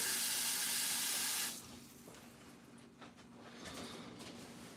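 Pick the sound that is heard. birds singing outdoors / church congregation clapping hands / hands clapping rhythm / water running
water running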